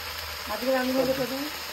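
Dried red chillies and whole spices crackle in hot oil as a tempering for a home-style curry, a steady soft sizzle with a voice briefly heard over it.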